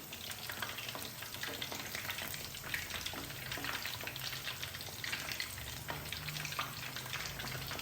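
Fish fillets coated in besan (gram flour) batter fry in a pan, giving a steady, dense sizzle with small crackles that runs unbroken throughout, close and alone.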